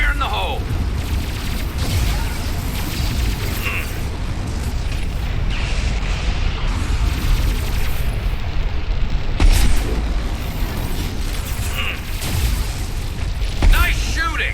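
A grenade blast in the video game Mass Effect 2 booms out among steady combat noise, with further crashes and mechanical clatter through the fight and voices talking over it.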